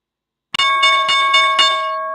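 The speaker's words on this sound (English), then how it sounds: "There it is, opening bell." The stock market opening bell rings after a moment of silence, a bright metallic bell struck in about five rapid repeated hits that leave a sustained ringing tone, loud and close with no talk.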